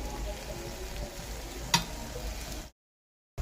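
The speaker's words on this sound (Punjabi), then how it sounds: "15 ਮਿੰਟ ਹੋ ਗਏ ਨੇ ਆਪਾਂ ਨੂੰ ਤੇਲ ਦੇ ਵਿੱਚ ਕਰੇਲਿਆਂ ਨੂੰ ਪਕਾਉਂਦਿਆਂ ਨੂੰ" Bitter gourd (karela) fries in oil after about fifteen minutes of cooking, giving a steady, fairly quiet sizzle with one sharp click partway through before the sound cuts out briefly.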